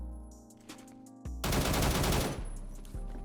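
AK rifle fire in the Phantom Forces shooter, beginning with a couple of single shots before a loud, sustained automatic burst of about a second, then tapering shots over a steady game background.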